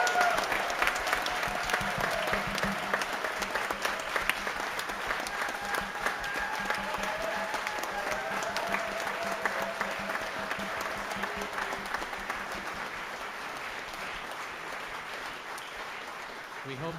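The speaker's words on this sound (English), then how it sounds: "Big round of applause to all." Sustained applause from a theatre audience at a live orchestra film score festival, a steady wash of clapping that gradually softens, with faint speech-like tones mixed underneath.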